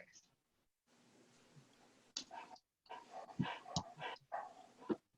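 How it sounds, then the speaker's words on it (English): A dog somewhere in a house is heard over a video call during a marketing meeting. It gives faint, intermittent yips and whimpers in short bursts, with low household noise in between. "Somebody's got a dog."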